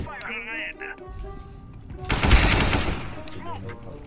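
Automatic rifle fire in the game CS:GO, a sustained burst of rapid shots lasting about a second, loud and close, with game sounds and player chatter around it.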